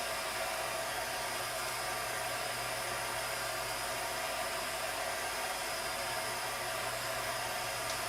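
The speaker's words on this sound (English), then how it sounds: "So we're just going to warm up the two sides of the piston." A heat gun blows a steady, even hiss of hot air onto both sides of a motorcycle piston, constant and fairly quiet with nothing else heard.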